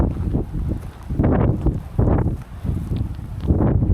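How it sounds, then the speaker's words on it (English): Gusty wind buffets the microphone on a desert trail near Phoenix, with loud, low rumbling surges rising and falling every second or so. "it's pretty windy up here"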